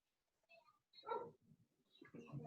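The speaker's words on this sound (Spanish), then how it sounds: "Escucho un perrito." A small dog barks and yips in a few short, fairly faint bursts in the background of an online class, with a brief whimper between them.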